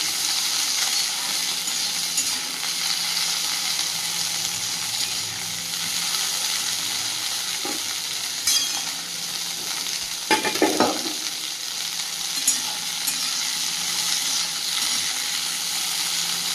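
Vegetables, including okra, lightly frying in a pan, with a constant dense sizzle and hiss throughout, close by and steady, with a few brief clinks and stirring scrapes midway and no voices.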